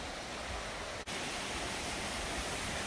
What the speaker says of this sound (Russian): Тот же самый водопад, что и летом, но кругом снег.